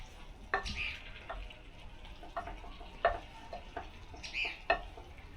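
A utensil stirs turkey gizzard adobo in a pan over a faint simmering sizzle, giving a few distinct scraping clinks spaced a second or two apart, quiet and close.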